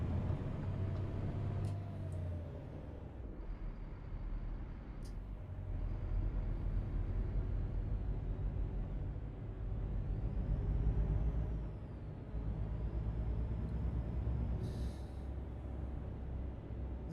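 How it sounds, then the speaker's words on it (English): A new Volvo VNL truck cruising on the road with a steady low engine drone and rumble heard from inside the cab, with a few brief hissing and clicking noises scattered over the continuous hum. "I kind of like the noise of this truck."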